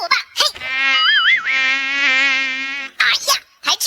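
A cartoon mosquito gives a sustained, whining buzz with a wavering pitch for about two seconds, with brief vocal sounds just before and after it.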